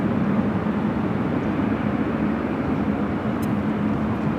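A China Eastern airliner takes off from runway 24 left at LAX, a steady broad jet roar with a low drone holding level throughout, loud and continuous with no voices.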